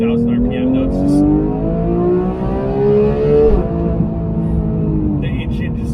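A Porsche GT3 with a PDK gearbox screams as it revs while driving, its engine pitch climbing steadily through a high-rpm pull, then breaking off at a shift and rising again, loud and close.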